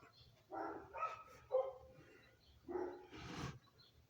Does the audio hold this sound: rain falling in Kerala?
no